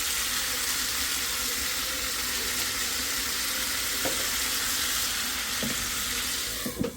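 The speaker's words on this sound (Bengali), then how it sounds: "একটু কষায় নিই তারপর পানি দেব" Food sautés in a pan with a steady, dense sizzling hiss for several seconds, close by, with a couple of faint clinks and a short rattle of stirring near the end.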